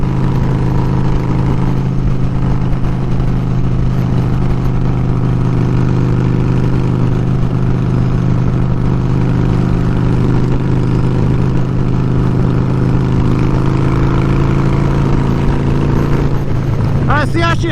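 A 2004 Harley-Davidson Dyna FXDI Super Glide labours up a grade, a steady close engine drone with road and wind noise throughout, under the rider's talk, with a brief gust or disturbance near the end.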